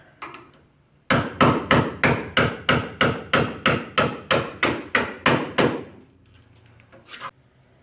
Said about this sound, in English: after a little while with the hammer and scraper, once this is loose